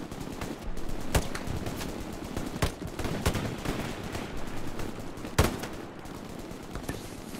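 Machine gun suppressive fire in the World War II shooter Hell Let Loose rattles in sustained bursts, with distant gunfire and battlefield rumble layered beneath and occasional louder nearby shots standing out.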